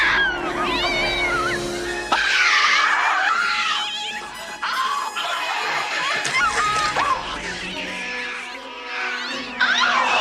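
Cat yowling and screeching from the horror film Sleepwalkers, loud and continuous with shrill, wavering meows and caterwauls throughout, under a dense, tense film soundtrack.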